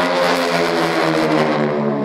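Piston warbirds weighing about 6,000 pounds fly in tight formation at an air show in Stuart, Florida, their engines making a loud, steady, close droning roar throughout, with no talking.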